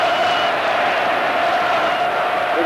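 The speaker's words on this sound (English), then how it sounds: "There is absolute jubilation in the crowd." A packed stadium crowd roars continuously at a 1987 rugby union test between Australia and Argentina, a dense, sustained wall of cheering with no breaks.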